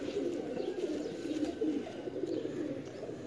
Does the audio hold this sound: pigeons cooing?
yes